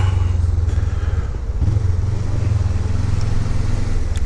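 A motorcycle rides past on a morning commute road, heard from a moving Suzuki GSX250R; a steady loud engine drone dominates throughout, with no clear separate pass-by standing out.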